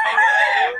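A three-year-old Pumpkin Sweater gamefowl rooster crowing once, loud and close, a single sustained call that holds steady then trails off.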